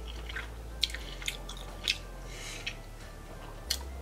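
Someone eats fresh homemade spaghetti alla chitarra in vodka sauce topped with grated Parmigiano Reggiano and cracked black pepper, with soft close chewing and a few sharp clicks and wet smacks spaced irregularly.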